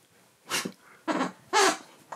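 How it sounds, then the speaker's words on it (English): A soft toy gives several short breathy purring bursts, three close together and a brief fourth, with quiet pauses between them. "It's a purr rather than a squeak."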